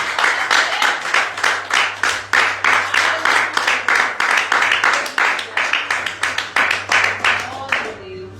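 A Pentecostal church congregation claps in a steady, fast unison rhythm, about two crisp claps per second, over a low constant hum. The clapping fades out at the very end.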